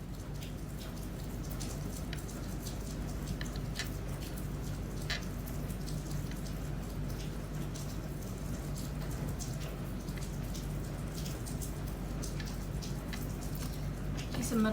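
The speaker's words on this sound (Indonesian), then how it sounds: "Kalian mau dengar suara hujan aja?" Steady rain pattering and dripping on surfaces, a continuous close wash of drops with no break, heard during an evening indoor livestream.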